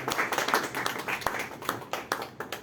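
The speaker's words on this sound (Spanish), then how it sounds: "Démosles un fuerte aplauso" Audience applause at a book presentation in a bookshop, a steady wash of many hands clapping for a few seconds with no talking over it.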